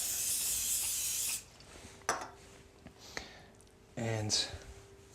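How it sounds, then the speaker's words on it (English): A loud, steady hiss of olive oil spray into a hot pan lasts over a second, then gives way to quieter clinks and a short sizzling burst near the end. "olive oil spray"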